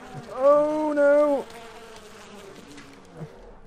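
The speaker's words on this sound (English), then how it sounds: "Yeah, the bees are having that bear." A bee swarm attacking a bear in the video game Far Cry 4, a loud close buzzing drone lasting about a second, then fading into quieter game ambience.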